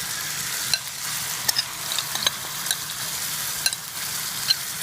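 Marinated chicken tipped into a hot pot for chilman biryani sizzles loudly and continuously, with repeated scraping stirs and sharp clinks of a spoon against the pot.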